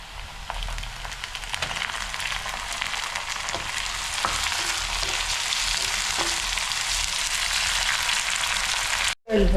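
Chopped tomatoes frying in a pan for a prawn curry, a loud, close, continuous sizzle with occasional stirring clicks, cut briefly just before the end.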